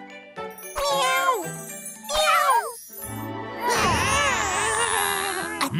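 Animated cartoon characters imitate cat meows with their voices, a few drawn-out, sliding meows in quick succession, loud and close over a tinkling jingle and busy cartoon sound effects.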